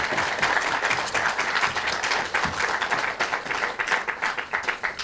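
A crowd at a Liberty Korea Party political rally claps in a sustained, dense round of applause, loud and continuous throughout.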